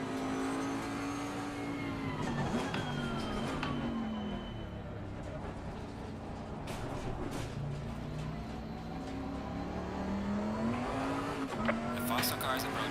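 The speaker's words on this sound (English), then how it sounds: "The faster car is approaching." A faster GT race car closes in during a lap of Laguna Seca in Assetto Corsa Competizione, its engine note rising and falling through gear changes over the steady drone of the player's own car, with a driver talking over it.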